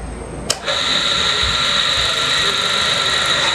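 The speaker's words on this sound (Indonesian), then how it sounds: "Apabila tombol forward saya tekan, maka kontaktor 1 bekerja dan motor bekerja ke kanan." A single-phase electric motor switched to forward rotation through a contactor in a forward-reverse control circuit, with a sharp click of the contactor pulling in. A steady, loud whining hum follows and runs on unbroken.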